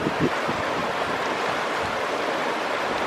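Steady rushing river water flowing beside a public hot spring near Wulai Waterfall, a continuous broadband wash with no speech.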